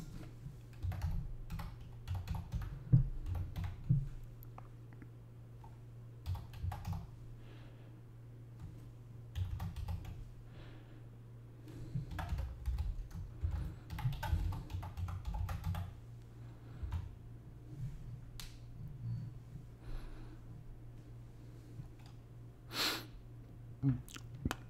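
Keys clatter on a computer keyboard as an email address is entered while setting up a freelance marketplace account, a steady run of close, light clicks with soft breathing and a low hum underneath.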